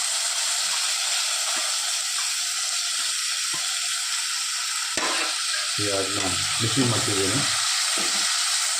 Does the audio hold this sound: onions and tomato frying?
yes